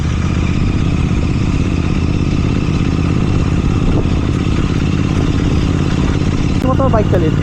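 A GT650 motorcycle on the road gives a loud, continuous low engine drone with steady throttle and a faint clattery edge, heard from the rider's position the whole time.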